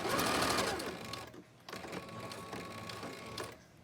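Sewing machine stitching back over elastic on a cloth face mask, a fast mechanical whir that pauses briefly partway through, then resumes as a steady close-up hum.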